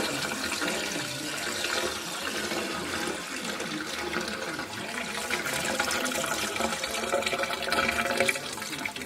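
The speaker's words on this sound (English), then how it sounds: "A lot of water just came out." Water mixed with oil gushing steadily out of a Nissan 350Z drift car's engine during an oil drain, a continuous loud splashing pour with no talk.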